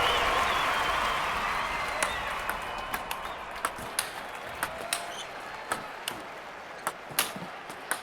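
Crowd noise in the London 2012 Olympics video game swells as a rally builds, a broad cheering wash that fades while sharp, regular ball strikes tick through, with commentary talk under it.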